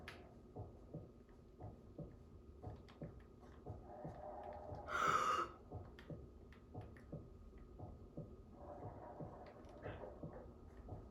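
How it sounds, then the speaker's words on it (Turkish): A slow, steady low thumping heartbeat in a video game repeats throughout, with a louder burst of noise in the middle and a faint hum underneath. "kalp atışı sesi geliyor"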